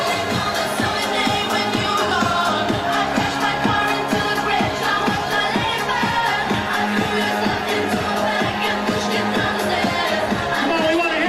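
Wedding guests sing along to Icona Pop's "I Love It" over loud dance music with a steady pounding beat, a full crowd of voices blending into the track.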